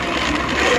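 An electric blender grinds herbs in one short, loud, steady whir, heard alone without talk.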